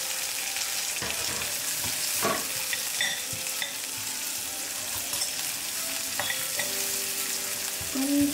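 Onions frying in a pan for watermelon rice: a continuous soft sizzle with several spatula scrapes and clinks, near but fairly quiet, and no voices.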